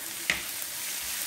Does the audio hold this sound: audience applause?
no